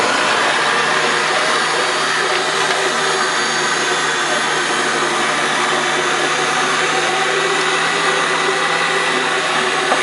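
An electric mixer runs continuously through bread dough for bierrocks, a loud, steady motor whir with no breaks and no voices.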